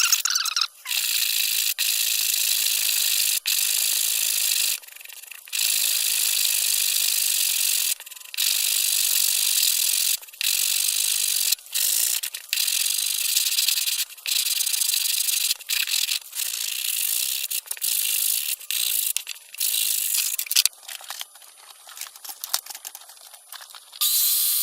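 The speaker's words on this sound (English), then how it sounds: "take my block and just start sanding from this end and work my way up" A sanding block rubs along the grade of model railroad scenery, giving a loud, close, hissing scrape in long sustained passes broken by brief gaps, quickening into shorter strokes toward the end.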